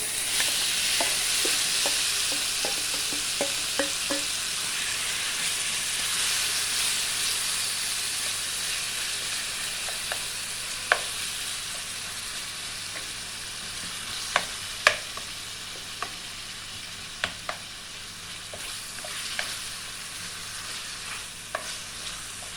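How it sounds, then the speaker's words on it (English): Jamaican-style brown stew beef liver fries in hot oil with a steady, hissing sizzle, dotted with sharp pops and spits that grow more frequent toward the end; no one talks. "My oil is already heated. I'm just going to add my liver."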